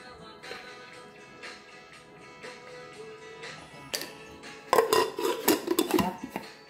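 Chicken pieces are tossed with cornstarch in a bowl, giving soft scraping and knocking at first, then a cluster of loud clinks and clatters of utensil against dish near the end.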